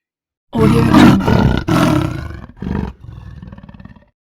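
A barking deer gives a loud, harsh alarm call close by: several rough bursts, the last trailing off. No voices.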